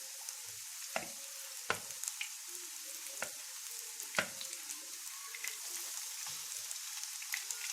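Chicken pieces coated in starch and spices fry in hot oil, giving a steady close hiss and crackle with scattered sharper pops throughout.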